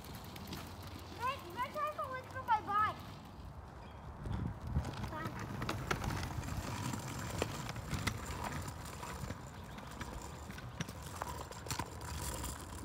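A ridden horse clip-clopping along, its hooves striking in a steady walking rhythm nearby, with a brief whinny early on and people chatting over the hoofbeats.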